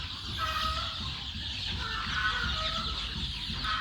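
A farmyard flock of chickens clucks continuously at moderate distance, a steady layered murmur of calls with no speech.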